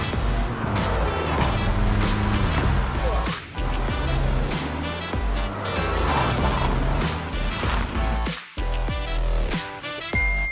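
A 2017 Audi Q2's engine revs and shifts through gears as it accelerates, loud and close, with dips between gear changes and no one talking.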